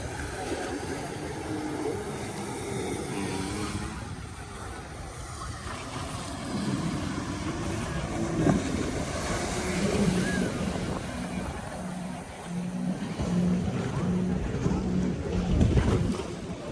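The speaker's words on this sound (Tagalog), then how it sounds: "Dami nag-jet ski, oh." Jet skis running on a river at Windsor, Ontario, their motor drone blended with steady wind and water noise, mid-distance and continuous, with faint voices in the background.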